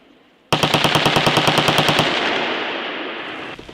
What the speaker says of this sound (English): machine guns fire live rounds over their heads